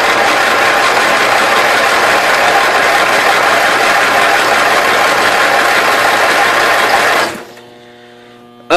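A 1992 Yard King lawn tractor engine, sitting unused for seven years, cranks and runs loud and rough up close for about seven seconds, then cuts out to a faint hum, with no one talking.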